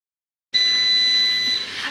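After half a second of silence, a multicooker gives one long, steady electronic beep that holds for about a second and then fades out.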